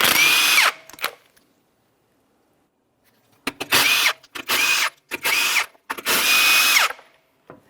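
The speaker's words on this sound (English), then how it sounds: "to remove the wheel, we're going to remove all 5 of our 19mm lug nuts." An impact gun removes five 19mm lug nuts from the wheel of a 2007-2017 Jeep Patriot, with one long burst, a pause, then four close, loud rattling bursts that wind up and stop abruptly; no talk.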